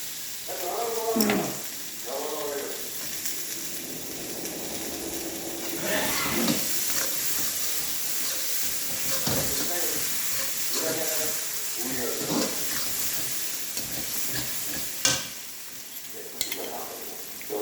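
A tomato goes into spiced masala frying in oil for a Katla fish curry, giving a steady sizzling hiss under ongoing talk, with occasional stirring scrapes.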